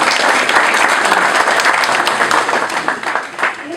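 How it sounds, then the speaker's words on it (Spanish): Loud, dense audience applause at a veterinary dermatology conference as a doctor is welcomed, many hands clapping steadily close by and tapering slightly toward the end. "Un aplauso por favor"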